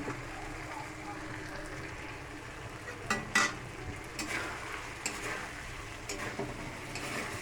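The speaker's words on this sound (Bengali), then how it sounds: "কাঁচা লঙ্কা শুকনো লঙ্কা ফোড়ন দিয়েছি" Green and dried chillies crackle and sizzle while being tempered in hot oil, a soft continuous frying hiss with a few sharper pops and stirring scrapes, and a voice talks quietly at moments.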